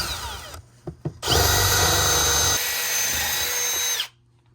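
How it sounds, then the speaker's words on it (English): A power drill bores a hole through a house roof for conduit penetrations during a home battery and solar installation, with a couple of short bursts followed by a loud, sustained whining run that slows once and then cuts off. "Now we're going to drill hole to the roof for penetrations"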